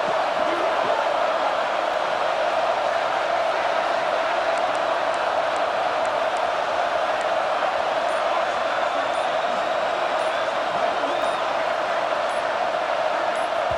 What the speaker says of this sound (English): Third down and the crowd really getting into it.